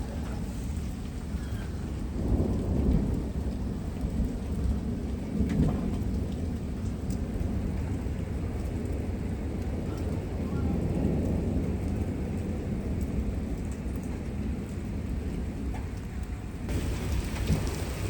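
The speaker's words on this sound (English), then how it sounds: "Said severe thunderstorm warning." Heavy rain pours steadily through a springtime severe thunderstorm, with rolling thunder rumbling in several swells beneath the downpour, close and loud throughout.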